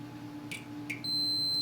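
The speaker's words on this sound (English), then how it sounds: "You can hear the meter beeping." A multimeter in continuity mode on an 8×8×8 LED cube board emits a steady high electronic tone as its probes touch a trace, preceded by two brief chirps, over a faint low hum.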